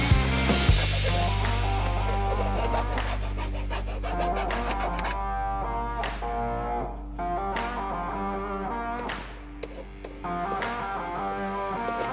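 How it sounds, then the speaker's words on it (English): A file scrapes back and forth across cut sewer pipe edges to deburr them, with repeated rough rasping strokes over a steady music track. "get rid of the edges, file it down"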